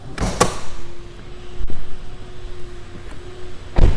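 The moonroof on a 2015 Toyota Venza opens with a low, steady electric motor hum lasting a few seconds, framed by sharp clicks and thumps at the start and end, close and clear.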